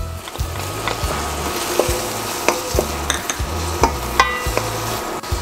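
Onion and garlic sizzle and fry in annatto oil in a pan while a utensil stirs and scrapes with repeated knocks against the metal, a steady close frying hiss throughout.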